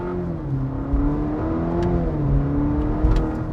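A Cadillac CT4-V with a turbocharged engine and GM 10-speed automatic accelerates hard, its engine note rising in pitch and dipping briefly at each quick gear shift, loud and close from inside the car.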